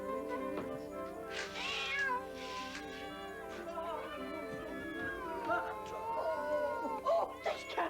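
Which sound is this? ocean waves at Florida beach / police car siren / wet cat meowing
wet cat meowing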